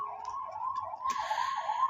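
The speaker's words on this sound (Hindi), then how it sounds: "एम्बुलेंस जा रहा है समहाउ" An ambulance siren wails steadily, its pitch sliding up and down as it passes at some distance, fairly faint with no voices over it.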